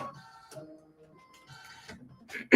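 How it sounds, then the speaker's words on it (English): Automatic needle threader on a computerized sewing and embroidery machine engaging, a brief sequence of soft mechanical clicks, whirs and ticks, close and fairly quiet, ending in a louder clack. "I'm going to press this needle threader button"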